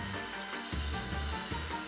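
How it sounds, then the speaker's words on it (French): An electric drill spins a lollipop, giving a steady whirring hum with two sharp surges where the bit kicks in again, close and fairly loud. "Je vais faire tourner la sucette avec une perceuse pour pouvoir la lécher sans fin."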